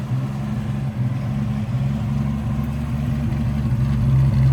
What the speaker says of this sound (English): Little inline 6, not sounding too bad. Got the choke on, so she's idling a little high right now.